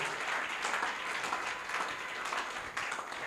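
A church congregation at a Sunday service claps for Jesus, the steady crowd applause holding at moderate loudness and a little distant the whole time.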